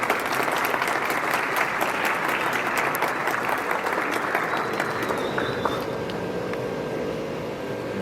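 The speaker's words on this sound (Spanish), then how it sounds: "recibamos con un muy fuerte aplauso al ingeniero Alejandro" A loud, dense burst of audience applause welcoming an engineer onto a stage, sustained clapping that thins and fades toward the end.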